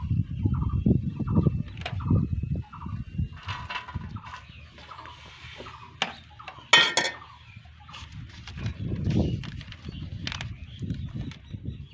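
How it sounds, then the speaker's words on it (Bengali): A metal strainer lifts fried potato french fries out of hot oil in a home kitchen, making scattered light clinks and scrapes against the pan. A few sharper clatters stand out over a faint background rumble. "এবার একটা ছাকনা দিয়ে এগুলোকে তুলে নেব।"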